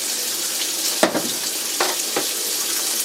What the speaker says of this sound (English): The sizzle you hear is bacon